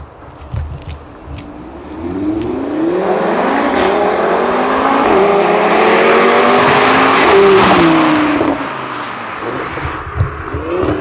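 A loud Audi RS3 engine with an ABT Stage 1 tune revs up and holds at high pitch for several seconds, echoing close by in a narrow alley, then drops back to idle.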